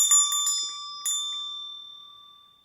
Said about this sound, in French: en faisant sonner la petite cloche